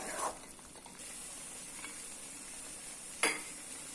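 Carrot halwa with cashews and raisins is stirred in a pan, with two short scraping strokes over a faint, quiet sizzle.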